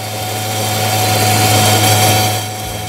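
A Puch Maxi moped engine fitted with an 18 mm exhaust revs high and holds a steady, loud buzzing drone for almost three seconds, easing off slightly at the very end.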